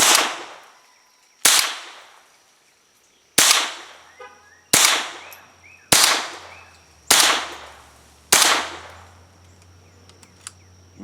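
Seven sharp shots from an Armalite AR-7 takedown survival rifle ring out one at a time, each a loud crack with a short decaying tail, spaced roughly one to two seconds apart outdoors.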